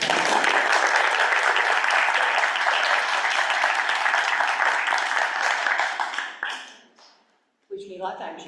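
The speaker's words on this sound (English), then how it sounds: "So please, a round of applause." A school committee meeting audience in Falmouth gives sustained, dense applause that stays full for about six seconds, then fades away, with brief sounds of voices or movement after it.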